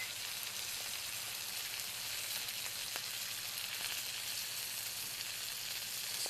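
A tomahawk ribeye steak sizzles steadily on a Blackstone griddle, a continuous faint frying hiss with a few small pops and no voices.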